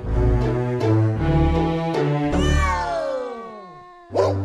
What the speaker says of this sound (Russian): Героем первого выпуска стал мой кот Марсель. Ему 7 месяцев, порода у него британский веслоухий.